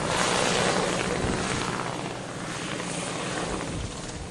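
A helicopter lifts away after dropping snowboarders on an Italian mountain, its loud rotor thump and turbine roar filling the air up close at first, then easing slightly as it departs, with no talking.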